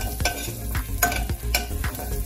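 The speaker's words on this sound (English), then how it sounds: "And the shrimp are going in." Shrimp for creamy Alfredo pasta sizzle in a hot pan while being stirred, with loud, close, steady frying hiss broken by repeated scraping stirs roughly every half second.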